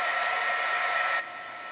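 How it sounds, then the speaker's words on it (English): A small heat tool blows steadily, up close and loud, drying wet watercolor paint on a petal, then drops to a lower, quieter whir near the end. "So what I'm going to do is I'm going to come in and dry it. I've got a little bit of a heat tool."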